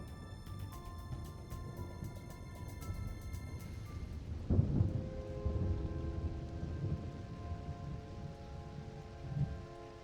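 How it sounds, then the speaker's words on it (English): Steady rain patters throughout in Minecraft, with a deep rumble of thunder rolling in midway, all under a layer of game music. "Why did it start raining all of a sudden?"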